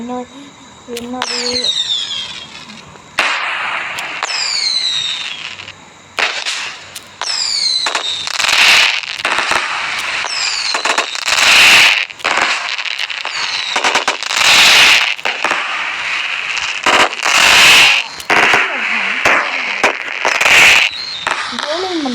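Firecrackers in a line go off one after another outdoors, a series of sharp loud bangs spaced a few seconds apart over crackling, with a voice and chatter around them.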